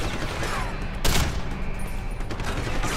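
Dense, rapid gunfire fills a firefight in the video game Deus Ex: Human Revolution, with continuous overlapping shots and a sharper burst near the middle, loud and close.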